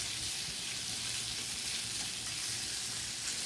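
Garlic shrimp sizzling loudly in a pan over high heat, with a steady, close, continuous frying hiss and no talking.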